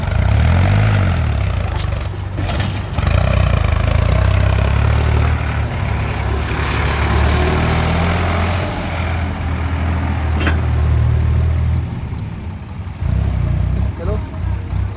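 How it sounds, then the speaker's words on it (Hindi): A tractor engine runs steadily close by for the whole stretch, a heavy low rumble with brief dips in level, while people talk over it. "ये ट्रैक्टर चला रहा"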